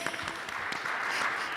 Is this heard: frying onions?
no